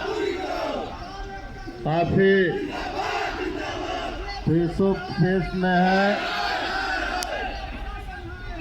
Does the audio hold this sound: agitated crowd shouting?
yes